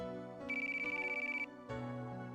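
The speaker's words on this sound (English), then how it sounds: "Oh, my phone." A video game phone ringtone plays, a bright electronic chiming tone that rings for about a second, stops briefly, then starts again, clear and close with a soft music bed underneath.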